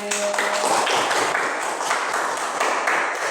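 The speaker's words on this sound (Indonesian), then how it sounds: "Tepuk tangan untuk kelompok B." Students clapping for group B in a classroom after their presentation, a dense, even patter of hands held at a steady level for a few seconds with no voices over it.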